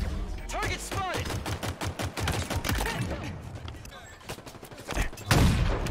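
Assault rifle fire in Halo Infinite, rapid bursts of closely spaced shots crackling in quick succession, loud and near, with a heavier impact toward the end.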